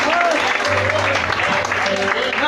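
A church congregation applauding loudly and continuously, with a preacher speaking over the clapping.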